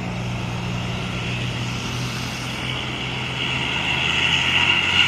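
A Hino RK bus with a Jetbus 2 body sets off, its engine giving a steady droning rumble with a rising whistle-like hiss toward the end, loud and continuous with no talk.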